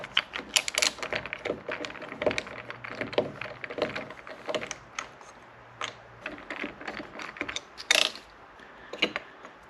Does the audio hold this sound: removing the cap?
yes